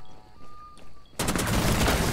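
Rapid gunfire in a shooting video game, a loud sustained burst of shots erupting partway through after a quieter stretch with a faint tone.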